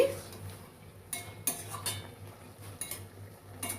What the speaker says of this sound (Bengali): এইবার আমি এর মধ্যে দিয়ে দিচ্ছি জল আর আমি এর মধ্যে একটু ধনে জিরের গুঁড়ো দিয়ে দিয়েছি